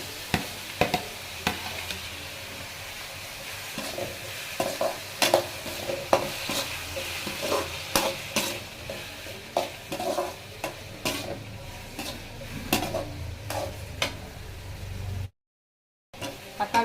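Tomatoes and onions sautéing for Chennai-style chicken gravy, a soft sizzle under frequent sharp spatula scrapes and taps against the pan, close and busy, cut by a brief silent gap near the end.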